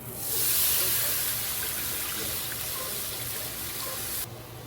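Water gushes steadily into a pan for boiling noodles, a close, constant splashing hiss lasting several seconds that cuts off abruptly near the end.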